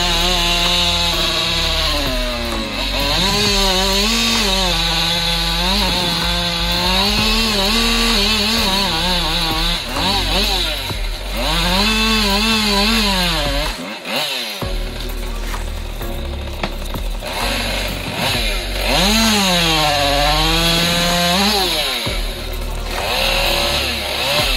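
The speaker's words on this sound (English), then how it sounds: "Husqvarna 550 Mark II." A Husqvarna 550 Mark II chainsaw cuts through a tree, its loud, close engine rising and falling in pitch under load and idling briefly between cuts, with one short break in the middle.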